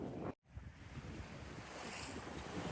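Wind and ocean waves aboard a sailboat crossing the Pacific, a steady broadband rush with gusting wind noise on the microphone, briefly cutting out near the start, faint and continuous with no talking.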